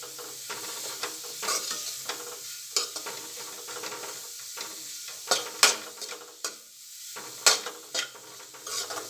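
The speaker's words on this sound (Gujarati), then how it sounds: "હવે આ બટાકાની મસાલા સાથે 2 મિનિટ સાંતળીશું" Masala-coated potatoes for aloo chaat sautéing in a pan, with a steady sizzle and repeated scraping, clattering stirs of a spoon against the metal, close and fairly loud, no talking.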